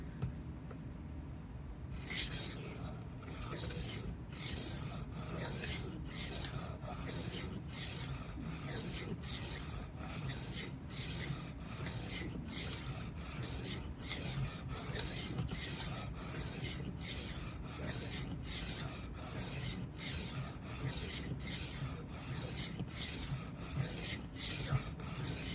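Repeated passes of a 12-inch Henkel chef knife blade on a sharpening surface, a steady run of evenly spaced rasping strokes, close and continuous with no talk.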